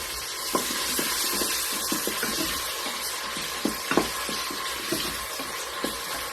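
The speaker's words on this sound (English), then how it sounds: "I'm going to take the onion and the garlic and put it in my pot" Onion and garlic sautéing in hot oil in a pot, a steady close sizzle broken by occasional light clinks and scrapes of stirring.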